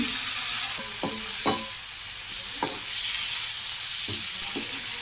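Chopped tomatoes hit a masala frying in oil for a chickpea curry, making a steady sizzle broken by several sharp spatula scrapes and clicks as the pan is stirred. No one speaks.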